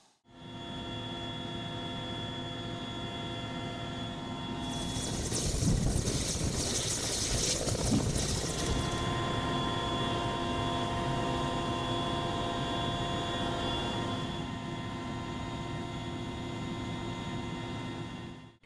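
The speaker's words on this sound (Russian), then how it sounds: "Вертолет Ми-8 плавно оторвался от земли, набирая высоту и устремился к заданной точке" An Mi-8 helicopter on a military exercise lifts off with a steady, loud turbine and rotor drone that swells into a louder rush in the middle, then settles back to a constant hum, with no voices.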